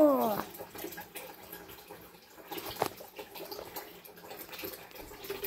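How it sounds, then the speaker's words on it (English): Water running from a tap at home, a faint and uneven trickle and splashing with a few louder drips, heard fairly close. "that's a lot of water"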